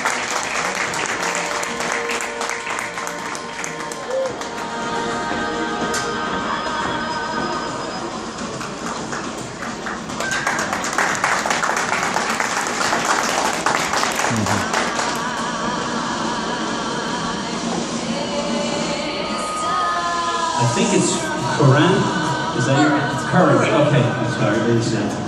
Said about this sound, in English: A round of applause for Lauren.